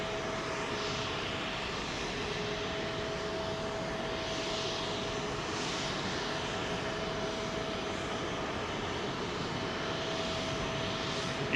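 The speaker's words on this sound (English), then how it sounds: "Chuck going out, folks, in control of this Boeing 777." A Boeing 777 taking off from Heathrow runway 27L, a steady, loud jet engine roar holding constant at close to middle distance with no voices.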